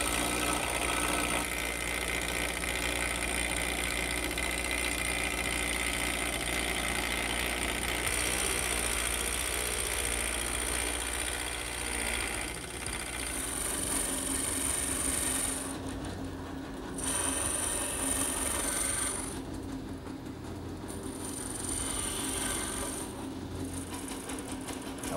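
A wood carving duplicator machine cuts into wood for a Victorian kitchen table, a steady high-pitched whine with grinding, rasping texture, briefly dipping a few times as the cutter moves across the piece.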